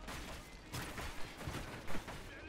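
Close-range gunshots in the video game Call of Duty Ghosts during multiplayer play, a few short sharp bursts over a busy, dense game background.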